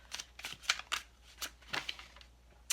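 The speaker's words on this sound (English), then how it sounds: "I need to shuffle." Oracle cards are shuffled by hand in a quiet room, a run of crisp riffling bursts and papery slaps that come in an irregular rhythm, close and fairly soft, with no one speaking.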